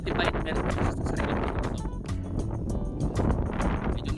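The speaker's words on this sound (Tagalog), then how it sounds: "Malakas yung hangin" Strong wind over an open rice field buffets the microphone with a steady low roar throughout, while faint voices speak underneath.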